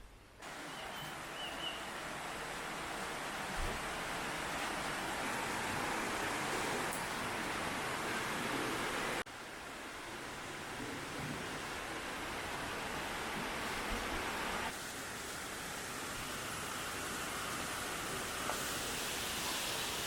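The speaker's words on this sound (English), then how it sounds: "Second waterfall." A waterfall in mountain peaks gives a steady, full roar of rushing water with no break. It is close and even, though its tone shifts slightly a couple of times.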